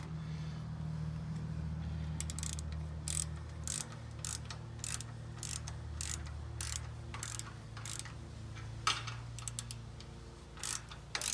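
A hand ratchet tightens an anti-rattle hitch clamp on a hitch carrier, giving a run of sharp, evenly spaced clicks close by over a low mechanical hum.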